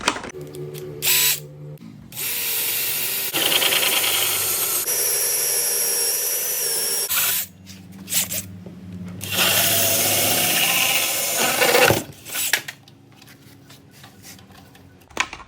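A power drill drives a 54 mm hole saw through a door to bore the knob hole, heard as several loud, close bursts of grinding drilling separated by short pauses, with no talking.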